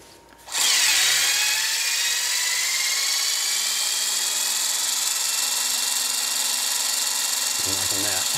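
A power tool, probably an impact wrench, spins up sharply and runs as a loud, steady whine for several seconds while loosening a wheel bolt on a Porsche 997.2 GT3 RS, with a brief rattle near the end.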